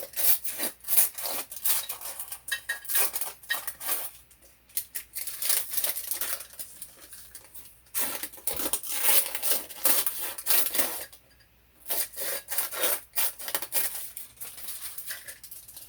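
Scissors or a blade cutting a paper doily in a kitchen during cookie baking, a steady run of close, scratchy rasping strokes that stop and start in short bursts with brief pauses.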